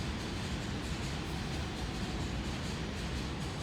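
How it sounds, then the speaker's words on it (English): A train passes nearby, a dense continuous rumble and roar holding steady at high level throughout, with no voices over it. "now the train's interrupting me."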